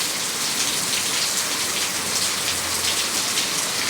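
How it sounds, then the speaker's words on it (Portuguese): Heavy night rain pours down on a waterfront, a dense, even hiss of drops striking surfaces that continues unbroken for several seconds, loud and close, with no voices. "muita chuva, minha gente"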